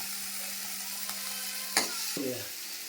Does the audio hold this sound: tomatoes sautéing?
yes